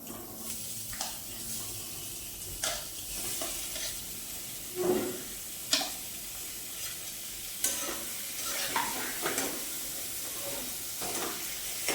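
Onions sizzle in hot oil for paneer bhurji while a spatula stirs them, a steady fry punctuated by scraping strokes against the pan, close and without talk.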